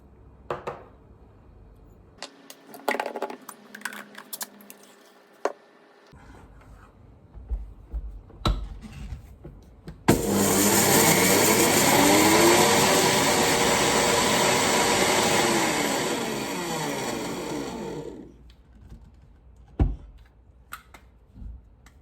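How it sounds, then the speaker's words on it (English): An electric spice grinder grinding cumin seeds whirs loudly for about eight seconds, a steady buzzing drone, framed by quiet clinks and small handling sounds before and after. "if you have a coffee grinder or spice grinder, that does it really fast"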